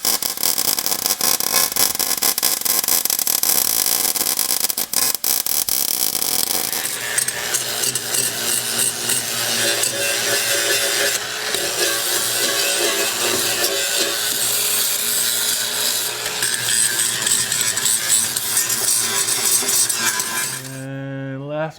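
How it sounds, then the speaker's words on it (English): Abrasive blasting on the firewall of a 1937 Lincoln Zephyr, a loud, unbroken hissing roar that runs for about twenty seconds before cutting off. "I'm going to blast this side."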